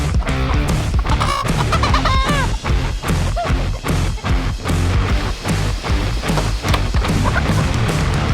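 Several roosters crowded in a rooster-only coop, a dense continuous racket of clucking, squawks and crowing close by, with rapid overlapping calls and occasional scuffling bangs throughout.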